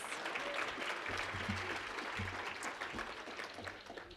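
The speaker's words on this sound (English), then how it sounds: "Let's give them another big round of applause" A conference crowd at the NC Child Hunger Leaders Conference applauds in a dense, steady round of clapping that lasts the whole stretch, fading slightly at the end.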